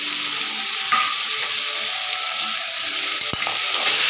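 Chicken pieces and potato chunks frying with softened onions for a Madurai-style chicken gravy give a steady, close, loud sizzle throughout, with a brief stir or clatter near the end and no talking.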